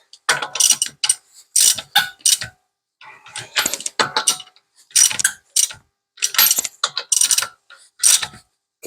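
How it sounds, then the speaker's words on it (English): A car jack being lowered during a DIY tire swap gives off bursts of close, loud mechanical ratcheting clicks, about eight quick clattering runs separated by short pauses, with no talking. "So what I'm going to do now is just lower the jack a little bit"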